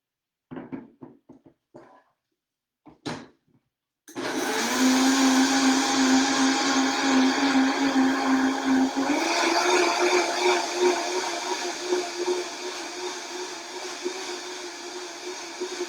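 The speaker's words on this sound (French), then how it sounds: "je vais mixer." A blender whirs loudly as it purées fruit with coconut water. A few short knocks come first, then the motor starts and runs steadily, its pitch shifting slightly partway through.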